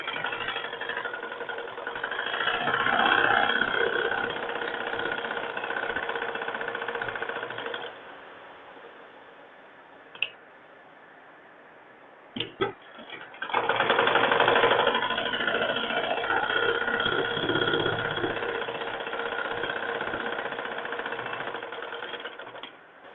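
A sewing machine stitches a lining blouse in long continuous whirring runs, stopping for a few seconds of near silence broken by brief clicks, then starting up again at full steady speed.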